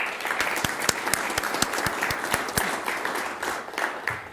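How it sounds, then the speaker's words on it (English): Steady applause from an audience at a school governing board meeting, many hands clapping continuously at a fairly loud level throughout. "Hannah Lynch, if we can give her a round of applause."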